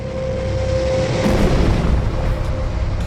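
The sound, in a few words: explosion of meteorite crashing into the Moon, sound effect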